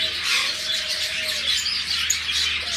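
Black cuckoo pair kept as pet birds in a shop, calling amid a dense, steady chatter of many small caged birds, with a few brief clear whistled notes standing out close by.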